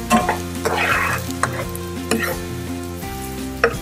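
Carrots frying in a pan as they cook toward tender, a continuous close sizzle punctuated by intermittent stirring knocks and scrapes from a utensil.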